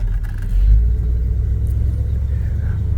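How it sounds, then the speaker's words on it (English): An old Chevy C10 pickup truck engine idles with a steady, deep low rumble, a brief swell in loudness near the start, then an even running drone with no talk. "man, this is a good running old truck"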